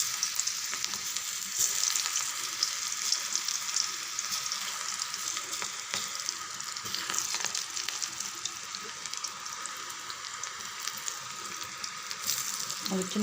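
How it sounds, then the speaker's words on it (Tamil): Small drops of potato pakoda batter fry in hot oil, giving a steady, bubbly crackling sizzle that carries on evenly at moderate volume throughout. "எண்ணெய் நல்லா காஞ்செடுத்து நம்ம எடுத்துருக்கிற மாவு, உருளைக்கிழங்கு போட்டு கலந்து வச்சுருக்க மாவு இருக்குது இல்லைங்க, அதை எடுத்து சின்னதாக அப்படி போடுங்க"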